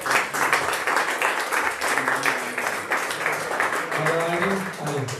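An audience at a press conference applauds in a sustained, dense wash of clapping, with a few voices and murmurs mixed in toward the end.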